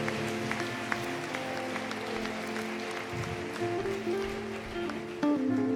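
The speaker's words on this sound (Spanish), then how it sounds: "Démosle un aplauso al Señor." Congregation applause during a Sunday church service, steady clapping that blends with sustained organ or keyboard chords and continues evenly throughout.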